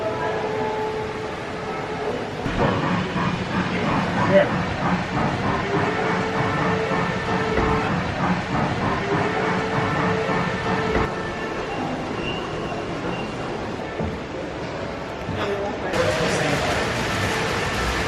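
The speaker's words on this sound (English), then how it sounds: "Well, that's a little train" A little train runs at the Henry Ford Museum, its steady rumble and rhythmic clatter carrying on continuously with a shift near the end, while people talk over it.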